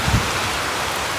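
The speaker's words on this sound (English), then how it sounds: "Well, here's the rain." Rain falls steadily in a soft, even hiss, heard briefly from a lawn beneath a tree.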